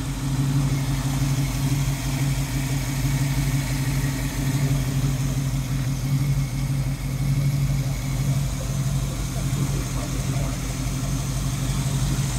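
Original 260 V8 in a 1964½ Ford Mustang coupe idling through manifolds and dual exhaust, a steady, close, low rumbling burble that holds evenly throughout with no talking.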